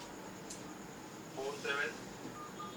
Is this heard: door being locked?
no